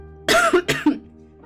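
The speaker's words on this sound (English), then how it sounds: "a little cough might come out now and again" Two quick, close coughs in a row, then quiet, from someone who choked on something that went down the wrong way.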